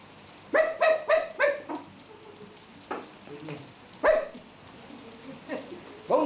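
A puppeteer's voice imitating a small dog barking during a children's puppet show, a quick run of several yaps followed by a few scattered single barks, close and clear amid light stage noise.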